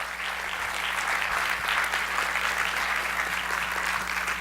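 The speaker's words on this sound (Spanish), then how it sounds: "De un aplauso al Señor." A church congregation applauds during a service, a sustained, even wash of clapping from a large crowd filling the room, with a steady low hum underneath.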